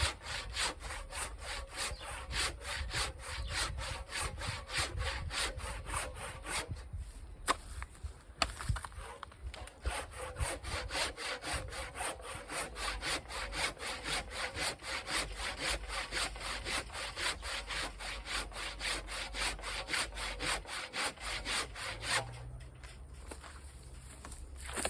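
A manual hand saw cuts through wood in a steady, even rhythm of rasping strokes that continues for the whole stretch, with only a couple of brief breaks. It is quiet and heard alone.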